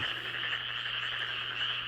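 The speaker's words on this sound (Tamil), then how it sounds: "தவளைகள் மற்றும் தேரைகள்" A dense chorus of frogs and toads croaking together, a continuous, even, buzzing trill that fills the whole stretch with no breaks and no voices.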